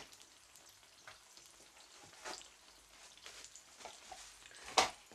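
Sliced brinjal pan frying in oil gives a faint, soft sizzle with scattered small crackles and pops, one sharper spit near the end, and no talk.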